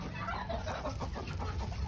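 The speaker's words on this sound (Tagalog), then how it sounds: "nangitlog yung manok" A hen clucks in soft, repeated bursts over a steady background hiss, fairly close and continuous for a couple of seconds.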